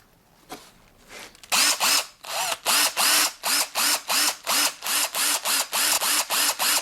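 A cheap brushed cordless drill drives small self-tapping screws into steel. It gives a rapid series of short, loud, whining bursts in a steady pulsing rhythm, very close, with no talking.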